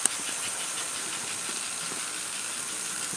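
A model Mikado-type 2-8-2 steam locomotive in Chesapeake and Ohio livery gives off a steady, close, airy hiss of steam, continuous and even, with faint low rattling underneath and no talk.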